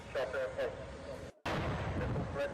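Loud booming blasts from explosions, several heavy bursts in quick succession with a brief gap, under a dense rumbling background.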